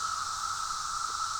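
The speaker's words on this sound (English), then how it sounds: "That's the sound of cicadas." Cicadas buzzing outdoors in a steady, high, continuous drone that stays level and unbroken throughout, with no voices.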